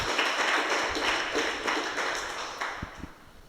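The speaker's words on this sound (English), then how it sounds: "So a big round of applause for them" Audience applause at an arts panel on filmmaking in Hawai'i, a steady wash of many hands clapping at moderate distance, slowly fading toward the end.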